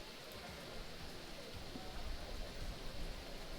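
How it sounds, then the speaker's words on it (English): Heavy rain pouring down and coming in through open windows, a steady dense hiss that stays loud and unbroken for the whole stretch. "Wow, the amount of rain coming in right now."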